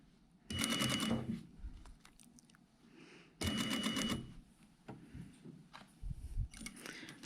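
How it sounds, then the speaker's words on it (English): Sewing machine stitching the welt onto a jacket front at the pocket position line, two quick bursts of close mechanical stitching with a quieter pause between and handling noise after. "we just sew our welt in position"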